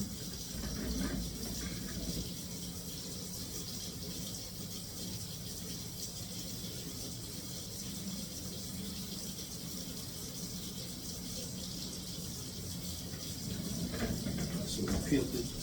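Tap water runs over a peeled boiled egg in a kitchen sink, a steady gushing stream that lasts throughout at moderate level, with a voice briefly heard over it near the start and end.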